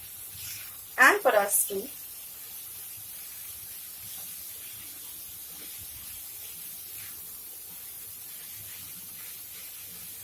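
Fresh methi (fenugreek) leaves hitting a hot pan give a short, loud sizzling hiss lasting about a second, which then fades to a faint background crackle while a person speaks briefly.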